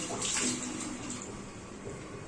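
Cold water is poured over dried Bombay duck fish to soak it, a short close splashing pour that is loudest at the start and then settles into a softer trickle.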